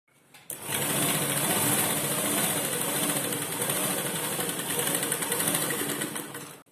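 A sewing machine runs a continuous stitch along the edge of a lined jacket, a close, even mechanical whirr that starts abruptly, holds steady for about six seconds, then stops.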